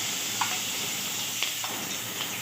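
Coarsely crushed garlic and chili sizzling in hot oil in a pan for a fenugreek-leaf (methi) bhaji, a steady close hiss with a few soft clicks and pops, no talking.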